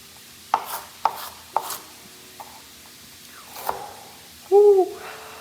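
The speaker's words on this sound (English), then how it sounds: "In a second, you're gonna have a fully chopped onion." A knife chopping an onion on a board, several sharp separate thuds spaced about half a second apart, then a pause and one more chop, close and clear, followed by a short scrape.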